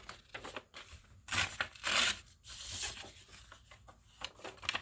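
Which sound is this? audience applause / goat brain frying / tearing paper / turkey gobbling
tearing paper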